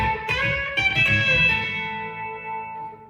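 A short B-bender electric guitar lick: a bent note held, then a quick four-note run ringing out and fading.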